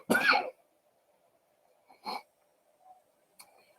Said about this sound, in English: I'm going to cough again, excuse me.